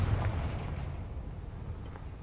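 Confringo fire spell explosion in Hogwarts Legacy, a low rumbling boom that swells at the start and rolls away into a fading, muffled roar.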